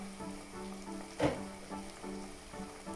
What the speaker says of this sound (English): Now this will sizzle and spit because of the water content in there as well.